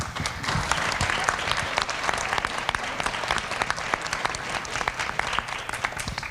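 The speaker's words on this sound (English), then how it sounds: "I'd say a round of applause, but we already got one" Dense, even audience applause rolls on without pause at a leadership conference, a crowd clapping steadily and fairly loud from start to finish.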